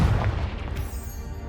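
The Confringo blasting spell goes off in the Hogwarts Legacy video game: a loud, deep explosive boom opens the moment and decays into a rumbling tail that fades over about a second.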